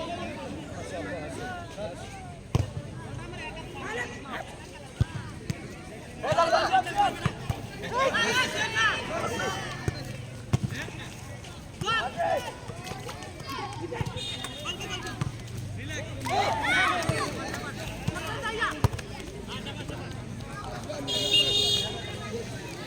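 A large crowd of spectators fills a village high school football ground, their broad murmur and occasional shouts running steadily under a commentator's continuous talk.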